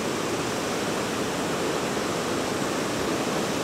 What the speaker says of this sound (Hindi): पार्वती नदी का बहाव देखो कितना तेज है